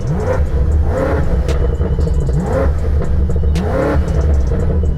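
A powerful 4.4-litre twin-turbo V8 engine in M mode revs repeatedly in rising, throaty bursts with exhaust pops, loud and close, with a deep rumble throughout.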